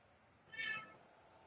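A house cat lets out a single short, faint meow against a quiet background.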